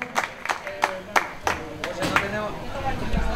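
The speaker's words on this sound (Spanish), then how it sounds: "Ese aplauso." Audience applause at a masters cycling event, sharp claps at first that swell into a fuller round of clapping with crowd murmur underneath.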